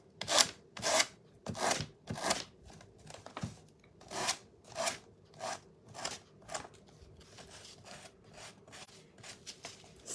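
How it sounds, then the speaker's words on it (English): Repeated rough rubbing strokes of sandpaper drawn down the edge of a Christmas door hanger, about a dozen rhythmic rasps, close and fairly loud, with no talking. "on the edge, going downwards, you just sand along that edge, and it will cut it perfectly"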